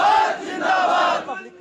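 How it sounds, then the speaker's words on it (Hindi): A large crowd holding tricolour flags at a funeral procession in India chants in unison, a loud massed roar of voices that swells and carries on without pause. "हाथों में तिरंगा लिए लोगों की भीड़।"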